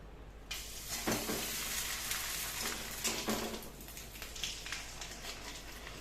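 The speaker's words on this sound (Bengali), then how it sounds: "এই দেখো কড়াইতে আমি ভেজে দেখাচ্ছি তোমাদের।" Tomato and rice papad frying in hot oil in a wok, giving a steady, close sizzle and crackle that runs the whole time, with no one speaking.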